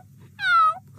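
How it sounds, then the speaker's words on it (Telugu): A single cartoon cat meow rises and falls over about a third of a second, loud and clear above a low, steady background hum. "థ్యాంక్స్ కిట్టీ, నువ్వు మియావ్ అని అరిచి కాపాడావు."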